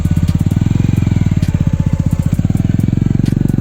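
Romet K125 motorcycle engine held on the throttle during a riding lesson, a loud, steady rapid-firing putter close by with a constant pulsing rhythm throughout.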